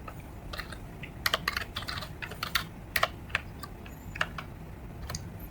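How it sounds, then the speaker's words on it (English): Keys clatter on a computer keyboard as a command is typed at a PC: irregular bursts of crisp taps, some quick runs and some louder isolated strokes, heard up close over a quiet room hum. "So we type the command."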